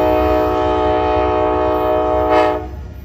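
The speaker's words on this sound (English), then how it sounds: "here comes Amtrak train number 11" Amtrak Coast Starlight passenger train number 11, led by two P42DC locomotives on the Coast Subdivision in Oakland, California, rumbles close by as its loud sustained horn blows, then fades near the end.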